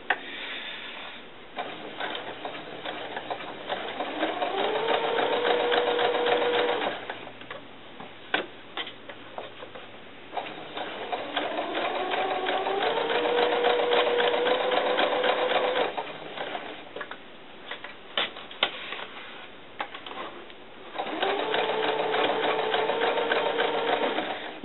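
Sewing machine stitching elastic onto fabric for a doll cover-up, running in three long steady bursts of rapid mechanical ticking with short pauses between, close and clear with no talking.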